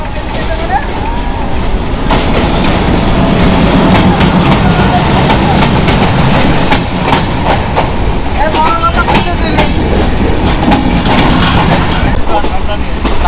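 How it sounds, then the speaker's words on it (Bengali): Passenger train bound for Dhaka crossing at Sardah Road railway station, a loud steady rumble of rolling cars with faint clatter and squeal throughout, voices chatting underneath. "আর এখানে এখন ঢাকার ট্রেন ক্রস করবে"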